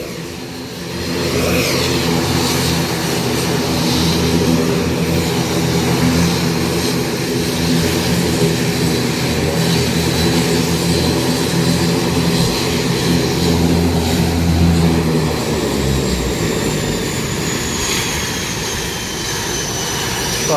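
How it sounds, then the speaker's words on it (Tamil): An airplane engine at Jaffna airport roars steadily and loud for a long stretch, a broad turbine drone with a whining tone, then winds down toward the end. "இன்ஜினோட சவுண்டை வரும், என்ன சவுண்டாக இருக்குண்டு."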